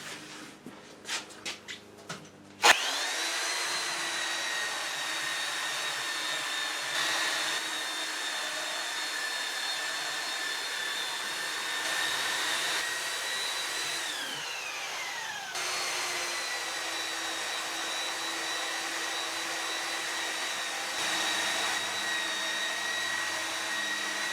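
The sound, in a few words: belt sander sanding a wood box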